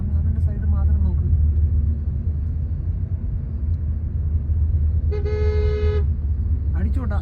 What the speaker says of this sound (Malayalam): അടിച്ചോട്ടെ, അത് ഹോൺ അടിച്ചോട്ടെ, മൈൻഡ് ചെയ്യണ്ട.